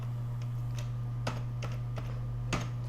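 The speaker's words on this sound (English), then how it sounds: "then we type total" Keys on a computer keyboard are struck a few times in a sparse, irregular pattern while entering a word into an Excel spreadsheet, each click short and close over a steady low electrical hum.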